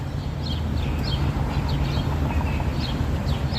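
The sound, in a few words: birds singing outdoors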